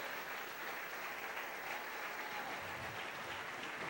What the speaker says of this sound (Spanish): Denle un aplauso al Señor en esta preciosa noche.